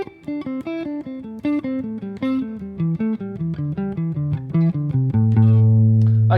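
A musical scale moves upward in repeating four-note sequences, each note clean, evenly spaced and steady, before ending on a held low note.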